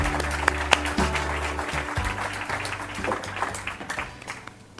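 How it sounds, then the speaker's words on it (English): An awards-ceremony audience applauds for several seconds at the New South Wales Australian of the Year Awards, broad steady clapping over a low sustained musical drone, with no talk over it. "Give them all a round of applause"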